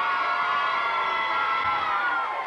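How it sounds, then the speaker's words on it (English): A studio audience at a game show cheers and whoops in a continuous, moderately loud roar, with scattered shouts over the crowd noise and no clear break. "Big round of applause,"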